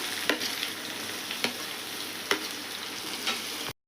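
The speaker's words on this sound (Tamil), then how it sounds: "சோம்பு பொழுந்துருச்சு இப்போ நம்ம வெங்காயத்தை போட்டுக்கலாம்" Onions frying in hot oil with fennel seeds for cutlets, a loud, continuous hiss of sizzling close by, broken every second or so by the knock and scrape of stirring.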